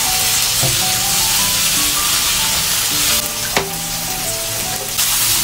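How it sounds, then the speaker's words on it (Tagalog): Garlic, onion and tomato sauté in hot oil with a loud, steady, close sizzle and hiss, joined by a few light clinks and scrapes of stirring, and no one speaks. "Gigisa na tayo dito ng bawang, sibuyas,"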